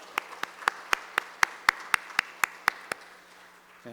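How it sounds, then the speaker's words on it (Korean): A church congregation claps in a steady, even rhythm, about four sharp claps per second for roughly three seconds, then stops, leaving quiet room tone with a low hum beneath. "우리 다시 한번 박수로 축복합니다"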